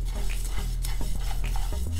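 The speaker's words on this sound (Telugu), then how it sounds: "ఇప్పుడు ప్యాన్లో ధనియాలు వేయించుకుందాం." Coriander seeds roasting in a pan over a low flame, a continuous dry stirring and scraping with light sizzle and faint clinks of utensil on metal throughout.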